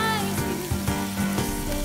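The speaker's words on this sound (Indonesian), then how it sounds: "iganya dimasak di atas cobek nih, guys. Lalu dituang sambal lepuhnya yang terdiri dari kecap dan cabe" Grilled beef ribs sizzle in a stone mortar with a sweet soy sauce and chili mixture. A continuous loud frying crackle sits under background music.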